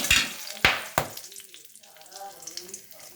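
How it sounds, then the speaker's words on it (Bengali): Whole cumin, cardamom, cinnamon, dried red chillies and bay leaves splutter in hot mustard oil in a wok, opening with sharp loud crackles and stirring clatter, then settling into a quieter, fizzing sizzle with scattered pops. "সর্ষের তেলের মধ্যে এখন আমি কিছু ফোড়ন দেব"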